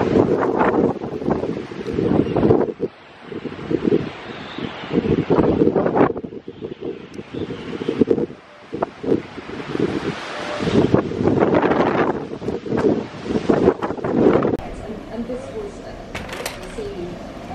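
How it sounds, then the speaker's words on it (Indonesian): Strong seaside wind at the small coastal town of Karlobag batters the microphone in loud, gusting bursts, with waves faintly behind, while people talk over it. "hari ini berangin sekali."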